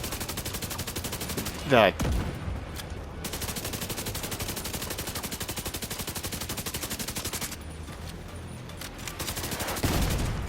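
Rapid, dense enemy gunfire in The Division 2 video game, sustained bursts with brief lulls, fairly loud, and a voice cuts in briefly.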